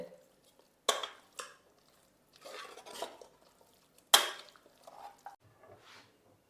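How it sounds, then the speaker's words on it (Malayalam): Rice and masala for a chicken biryani being stirred together in a pot, with a few distinct scraping and clinking strokes of a spoon against the pot separated by quieter mixing and short pauses, close up and with no talking. "റൈസ് നല്ലോണം ഒന്ന് മിക്സ് ചെയ്യാം മസാല ഒന്ന് മിക്സ് ചെയ്യാം"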